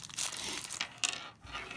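A small plastic bag being pulled open from around a Benchmade Griptilian folding knife, a short run of close, soft crinkles and tearing rustles with a couple of sharper crackles.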